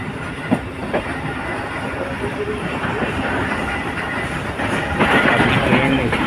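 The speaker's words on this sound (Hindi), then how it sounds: "अभी ट्रेन स्पीड पकड़ की जा रही है और बिल्कुल ट्रैक चेंज कर करके अभी राइट कराची ट्रैक पर चल रही है।" Hazara Express passenger train picking up speed and switching tracks on the line toward Karachi, with steady rumbling wheel noise, rhythmic clickety-clack over rail joints and occasional sharp clanks as the cars cross points, loud and continuous throughout.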